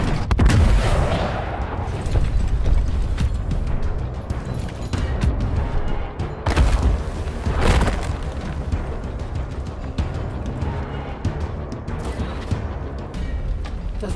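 Rocket blasts and gunfire in the video game Gears Tactics: several loud booming explosions burst over a steady rumble of battle, with no talk heard.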